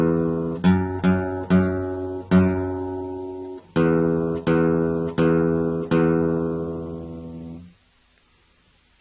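Electric or acoustic guitar picks out an opening phrase, a run of single plucked notes in two short groups, each ringing and decaying, played alone and fairly close before fading to silence.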